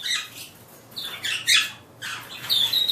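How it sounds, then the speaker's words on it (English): An English budgie chatters to itself in its cage, giving soft, bursty squawks and chirps at moderate distance with short pauses between phrases. "So River's still in the cage, just sitting there talking to himself."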